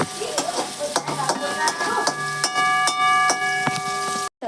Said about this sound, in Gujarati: હવે ડુંગળી અને ટામેટામાં થોડી વાર સતળાવા દેવાનું